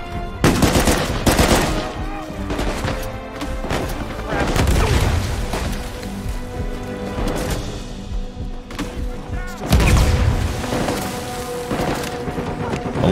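Burst-fire rifle gunfire in the video game Uncharted 4, loud clustered bursts of shots with booming impacts over a busy layered game soundscape, with heavier blasts near the start, middle and end.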